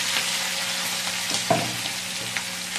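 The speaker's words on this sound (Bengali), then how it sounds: "এটা খুব ভালোভাবে গরম হয়ে গেলে তার মধ্যে এই ক্যাপসিকাম আর পেঁয়াজ যেটা কেটে" Capsicum and onion frying in hot oil for egg pasta, giving a dense, even sizzle and hiss close up, with a few soft stirring knocks and no voices.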